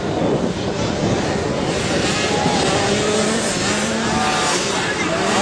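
Racing motorcycles on the 2012 Red Bud 50cc senior course: a dense, continuous engine roar that holds steady throughout, with a commentator talking over it.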